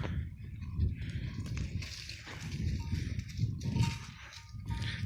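Goats bleat and shuffle in a busy pen, with low rustling and movement throughout and occasional calls rising above the steady background.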